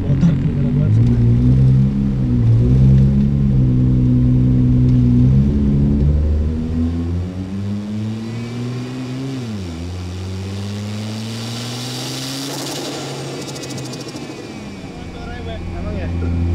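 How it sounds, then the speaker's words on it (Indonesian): A Nissan GT-R R35 with a straight-pipe Meisterschaft exhaust drones loudly from inside the car, its deep engine note rising and falling as it accelerates, then settling into a steadier cruise. People talk over the engine throughout. "Suara motor kedengeran banget sebenarnya."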